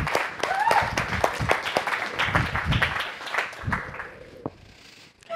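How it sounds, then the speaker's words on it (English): An audience at a startup founder talk applauds as guests are welcomed to the stage, a short burst of scattered clapping from a modest crowd that thins out within a few seconds, with voices talking over it. "so give them a round of applause."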